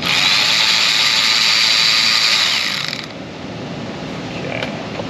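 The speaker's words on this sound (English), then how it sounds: "It would help if my ratchet was going in the right direction." A hand ratchet loosening a fastener on a BMW 530i 3.0 engine during a rough-running repair, clicking in a fast loud rattling run for about three seconds, then falling quiet with a faint metallic tick near the end.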